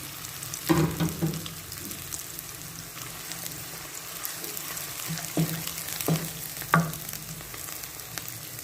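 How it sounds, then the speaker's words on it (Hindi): Onions tossed into hot oil for Pakistani mattar qeema hiss in a steady, close sizzle, with a few louder spatters and spoon knocks against the pan. "ऑयल गर्म हो चुका है। अब इसमें प्याज डालते हैं।"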